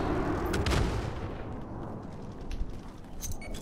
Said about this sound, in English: Ooh, somebody's striking them with an airstrike.